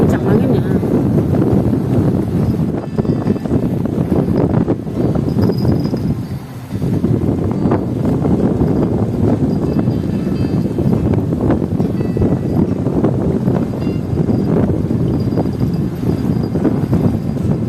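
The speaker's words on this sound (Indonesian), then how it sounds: "Kencang anginnya." Strong wind buffets a small fishing boat out on the water at dusk, a loud continuous roar that blows across the microphone with only one brief lull partway through.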